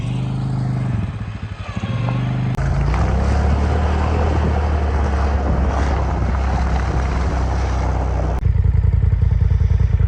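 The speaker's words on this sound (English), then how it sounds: "after the winch cable fell off, we got hooked up. We pulled up the hill." A winch pulls a load up a steep hill by a secluded mountain cabin, a loud steady motor drone that shifts pitch abruptly as it strains, with clattering and a harsh pulsing burst at the end.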